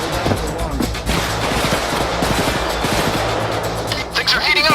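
Gunfire crackles in the video game Payday 2 during a heist, a dense mix of shots and bursts layered under a talking voice, loud and busy throughout.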